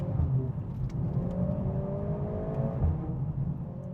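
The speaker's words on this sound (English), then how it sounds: "when you are in the sweet spot of this engine, I think it's one of the most exciting in all of cars" A Lotus Emira with an AMG engine revs hard in a steady, loud, continuous drone with rising and falling pitch sweeps, heard alone without any talk.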